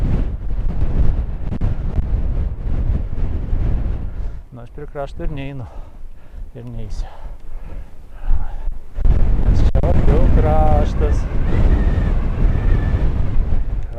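Strong wind roars into the microphone at the edge of Mam Tor near Castleton in winter, a constant heavy rumble that dips briefly while someone talks close by, then surges back even louder.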